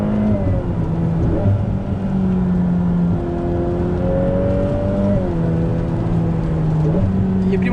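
A mid-engine Ferrari F8 Spider accelerating hard, its engine loud and close, climbing through the revs with quick gear changes between rising pulls.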